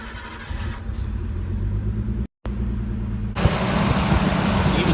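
Nissan Skyline turbo engine running at a steady idle, a low continuous rumble close by with a momentary dropout, then a louder, rougher surge of engine noise toward the end; no talking.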